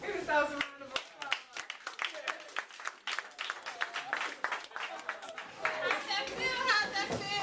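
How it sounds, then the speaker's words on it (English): An audience at a poetry event claps and applauds, lively uneven clapping mixed with cheers and voices, rising and falling over several seconds. "Give yourselves a round of applause."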